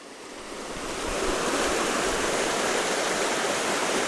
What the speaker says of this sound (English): Water running strongly.